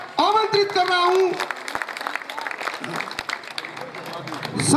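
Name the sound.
loud applause welcoming a leader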